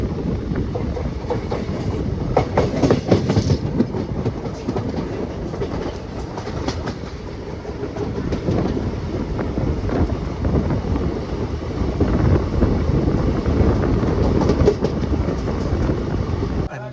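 A train travels on the rails between Chengannur and Kayamkulam in Kerala, with a steady loud rumble and rhythmic clickety-clack of the wheels, plus wind buffeting the microphone throughout.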